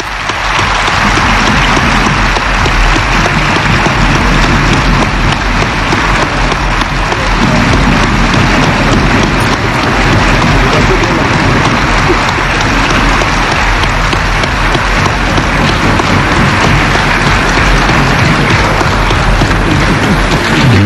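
A national conference assembly applauding to adopt its rules by acclamation, a dense, sustained roar of clapping from a large crowd that fills the hall throughout.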